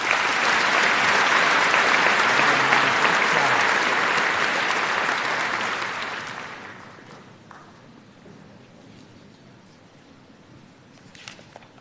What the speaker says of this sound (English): please join me in honoring her with a round of applause